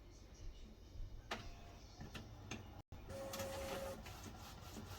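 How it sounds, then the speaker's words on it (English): A DTF printer whirs and ticks quietly with intermittent mechanical clicks and a brief high motor whine, close by and faint, with a short dropout midway. "So let's see if it prints up this time."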